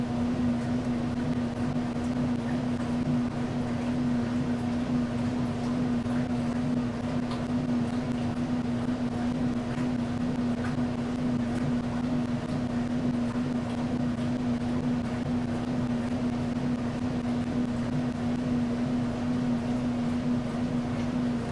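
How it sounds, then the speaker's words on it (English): A washing machine runs somewhere in the background as a constant, even mechanical hum with a steady low tone, unchanging and moderately faint for the whole stretch. "I have a feeling you can still hear the washing machine"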